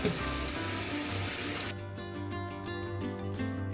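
A little water pouring into a pan of taro (kochu) curry in a home kitchen, a short broadband splash in the first couple of seconds that gives way to quieter pan sounds with tonal background hum.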